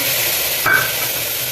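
Chunks of yellow pumpkin with tomato and chilli powder stir-fry in a hot pan, producing a steady close sizzle with one brief scrape of a spoon partway through.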